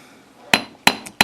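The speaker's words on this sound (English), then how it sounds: "Okay, so we're going to hammer around." A hammer strikes metal wire shaped into a jewelry hook and eye clasp, giving three sharp, close metallic taps with short ringing decays between gaps.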